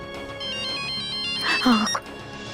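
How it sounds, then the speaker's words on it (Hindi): A phone rings unanswered in a Hindi TV serial: a steady electronic ringtone, briefly joined near the end by a louder, voice-like burst. "ये सोम के पापा फोन का ही नहीं उठा रहे"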